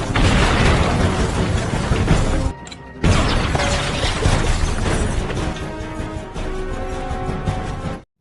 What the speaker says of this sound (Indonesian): Pertarungan yang diwarnai dengan rangkaian tembakan dan ledakan pun terjadi dengan begitu epiknya.